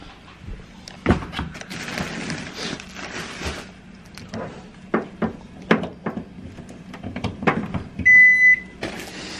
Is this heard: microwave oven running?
yes